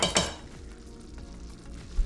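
A spoon stirs a Dijon mustard and soy sauce mixture in a hot pan on the stove for Swedish meatball sauce, opening with two sharp clinks against the pan and then a soft continuous sizzle.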